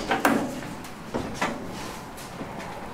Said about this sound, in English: you mind if I open the door?